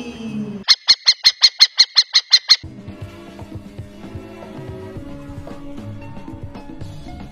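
An owl gives a rapid series of about ten sharp, evenly spaced squawking notes, loud and close, then stops as soft music carries on.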